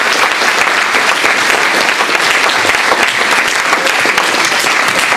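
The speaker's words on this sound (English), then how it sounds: "Give them a big round of applause." An audience at an Imperial College debate applauds the speakers: steady, full clapping from a large crowd that holds at an even level throughout.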